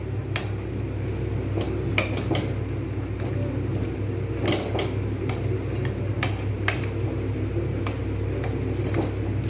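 Potatoes being stirred and sautéed in a pan for wedding-style white aloo dum, with a steady sizzle broken by irregular clicks and scrapes of a spoon against metal.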